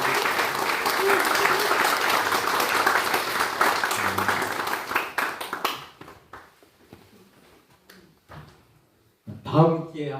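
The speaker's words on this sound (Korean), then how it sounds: "다시 한 번 더 뜨거운 박수를" Warm applause from a pastors' retreat audience after a lecture, dense and sustained for several seconds, then thinning to scattered claps before a voice speaks.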